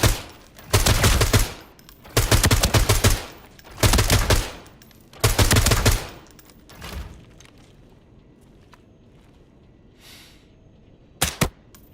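Rifle fire in the shooter game Arena Breakout: Infinite, four loud sustained automatic bursts of roughly a second each with short gaps, then a quieter lull and one last short double shot near the end.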